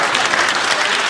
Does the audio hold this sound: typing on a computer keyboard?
no